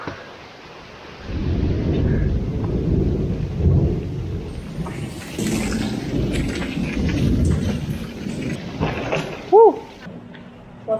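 A heavy thunderstorm heard from indoors: long rolling thunder rumbles build and fade over steady rain. A brief voice cuts in near the end.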